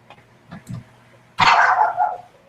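A pet dog gives a couple of soft yips, then a single loud, drawn-out bark close by, heard with no talk over it.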